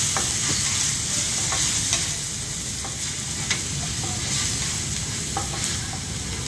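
Chopped tomato sizzles and fries with translucent onions in a pan, a steady loud hiss broken by occasional clinks and scrapes of stirring.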